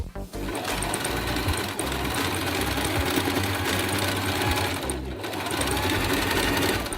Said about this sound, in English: now I'm doing like the edges here, the trims, and also with the same stitching